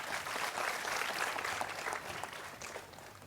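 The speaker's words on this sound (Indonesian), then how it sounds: "Tepuk tangan untuk Yoga." A seated audience at a discussion gathering claps for a participant, a fairly quiet, dense patter of many hands that holds steady and then tapers off near the end.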